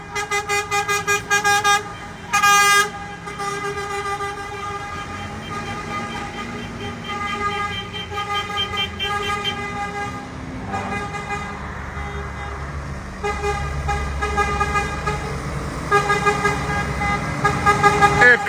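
Scania trucks on the road to the Fenatran 2024 truck show honk loudly again and again. Short bursts and longer blasts from their horns sound over a steady rumble of heavy engines and traffic.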